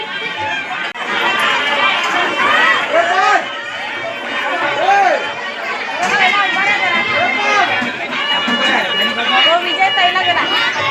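A dense crowd chatters at a goddess's temple feast, with people sheltering from rain to eat. Many overlapping voices form a loud, close, steady babble that runs throughout.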